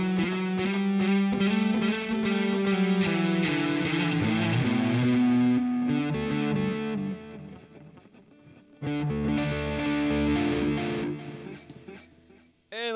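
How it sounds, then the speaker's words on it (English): Distorted electric guitar played through a Boss Katana MK-II amp with a tape echo effect, chords and notes ringing with repeating trails for about thirteen seconds, a brief pause in the middle before the playing resumes loudly. "And lastly is a tape echo."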